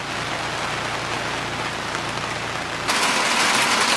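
Rain falling on a camper during backyard camping, a dense, steady patter on the roof that holds constant and then grows slightly brighter and louder near the end, with no voices.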